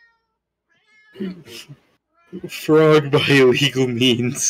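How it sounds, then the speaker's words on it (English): A cat meows loudly and repeatedly nearby in a room during a Minecraft session, its cries overlapping a man's speech. "Oh, that meowing isn't in-game."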